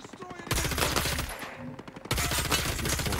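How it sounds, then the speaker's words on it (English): Rapid automatic gunfire in Ghost Recon Breakpoint, loud sustained bursts of many shots broken by a short lull, then resuming just as heavy. "I hear a lot of shooting going on"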